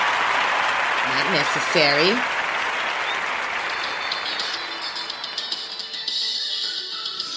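Studio crowd applauding a special guest on a live show, sustained clapping with a voice speaking over it early on, the clapping thinning toward the end.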